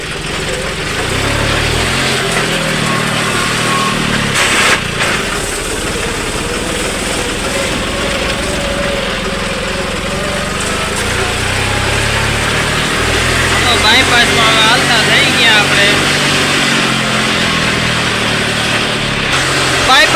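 A loaded farm tractor engine runs loudly and steadily as it pulls away, a close continuous drone that rises and shifts a little, with someone talking over it.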